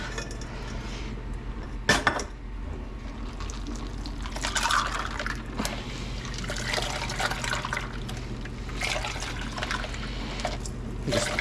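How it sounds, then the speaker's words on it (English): Bordelaise sauce being stirred in a pot, with wet liquid sloshing and clinks of a utensil against metal, including one sharp knock early on, over a low steady background hum. "Mix this up a little bit, start the cooling process"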